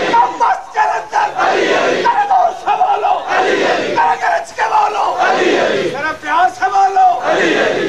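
Crowd at a Shia majlis gathering shouting religious slogans in loud rhythmic call-and-response bursts, many voices rising and falling together with short pauses between chants.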